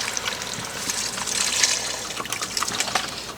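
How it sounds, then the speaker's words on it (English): Broth pours from a container into a pot for homemade chicken noodle soup, a close, bubbling gush with splashy trickles that swells and eases over a few seconds. "I'm going to go ahead and I'm going to pour my broth in."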